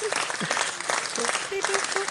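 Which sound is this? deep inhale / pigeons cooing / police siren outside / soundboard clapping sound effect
soundboard clapping sound effect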